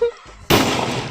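A single firecracker burst at a Diwali celebration, a sharp loud bang after a short quiet pause, followed by a crackling, hissing tail that lingers.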